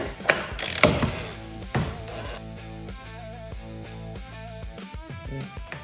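An oil filter housing on a 2017 BMW X3 xDrive28i is turned hand tight during an oil change, quick ratcheting clicks and mechanical gear-like ticking, close and fairly quiet, with a few louder knocks early on.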